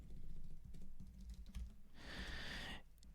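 Code typed on a computer keyboard, a fast close run of soft key clicks lasting a few seconds with no voices.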